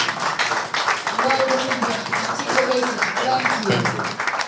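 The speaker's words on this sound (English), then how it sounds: "A round of applause." Sustained applause and clapping from the crowd at a political movement gathering in Delta State, Nigeria, a dense broadband patter filling the whole stretch with voices and cheers mixed in.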